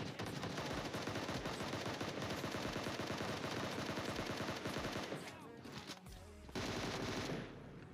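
Gunfire in the PUBG video game on the Karakin map, continuous loud rapid automatic bursts that break off near the end and then resume briefly.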